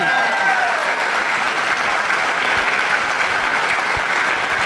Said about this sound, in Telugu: మరొక్కసారి మనందరినీ ముందుకు నడిపిస్తున్నటువంటి ప్రవీణ్ సార్కి మనందరం కూడా ఒకసారి గ్రాండ్గా క్లాప్స్